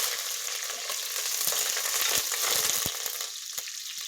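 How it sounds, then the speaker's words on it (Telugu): Dried red chillies, curry leaves and turmeric crackle in hot oil as a tempering, a loud, close, continuous sizzle with a few sharp pops and stirring clicks, no voices. "ఇప్పుడు మనము ఎండుమిరపకాయ, కరివేపాకు, తాలింపు పసుపు వేసుకుందాం."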